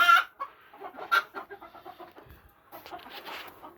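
Phoenix chickens cluck softly in a coop, giving a series of short, close, moderately loud clucks and murmurs in an uneven rhythm.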